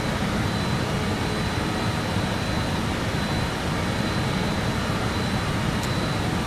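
Jet engines of a BAe 146 airliner in Microsoft Flight Simulator 2020 roar in a steady, even drone with a faint high whine, constant and unbroken throughout.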